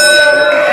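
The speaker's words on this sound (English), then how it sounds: "And he calls for the bell, and we are underway in our third contest here of the evening." A ring bell clangs loudly at a live independent wrestling event, a single sustained metallic ring with a bright tone that fades slowly.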